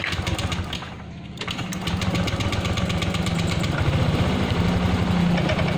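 A Honda Vario 125 scooter engine idles steadily and close, with a rough, slightly uneven sputtering running through the whole stretch and no voices.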